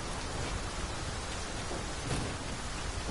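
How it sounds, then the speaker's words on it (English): A heavy downpour in the Dragon's Dogma 2 video game makes a dense, continuous hiss of rain with no breaks and no voices. "Downpour seems unlikely to abate."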